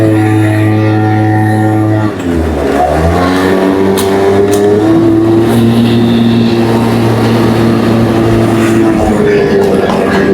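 A motorcycle engine drones steadily while riding along a road in Italy, loud and close with a sustained hum that dips briefly, then settles into a slightly higher steady pitch.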